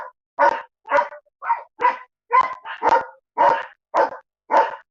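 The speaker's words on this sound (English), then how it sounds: "These dogs is getting on my nerves." Several dogs bark in a steady series of about ten loud, close barks spaced roughly half a second apart, with no talking over them.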